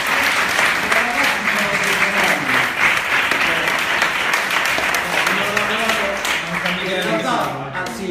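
Dense, sustained audience applause fills a live event hall, steady and loud throughout, with voices talking over the clapping toward the end.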